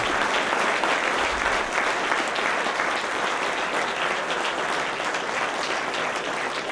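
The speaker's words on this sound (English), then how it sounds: "give them a nice warm round of applause" An audience at a film festival Q&A claps steadily and warmly, a dense continuous wash of applause that holds level throughout without cheering or talk.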